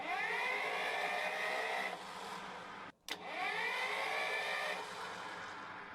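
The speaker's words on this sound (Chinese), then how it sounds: "而这台车打开发动机的时候，大家可以听一下这个声音。" An old 11-ton forklift engine with a suspected serious crankshaft fault runs steadily, a close, harsh drone with whining tones. The sound cuts out briefly midway and then resumes, and nobody speaks over it.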